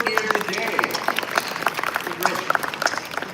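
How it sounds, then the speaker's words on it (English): A Web Summit Qatar 2026 audience gives a round of applause for startup pitch semi-finalists, with quick, scattered claps from a mid-sized crowd and a voice talking over it. "let's give a round of applause for all our semi-finalists here today."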